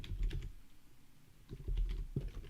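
Typing on a computer keyboard while entering a command into VS Code's command palette; close, crisp key clicks arrive in short bursts with a brief quieter pause between them, no voices.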